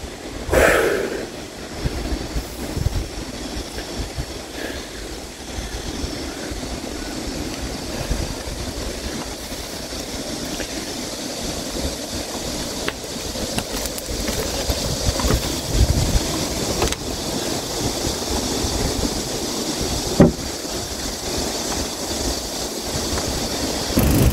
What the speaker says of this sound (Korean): 아, 물소리 좋습니다.